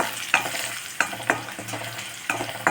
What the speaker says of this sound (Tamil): இந்த பச்சை மிளகாய் இஞ்சியெல்லாம் நல்லா எண்ணெயில் பொடியட்டுன்றதுனால கொஞ்சம் அட்வான்ஸாகவே போட்டாச்சு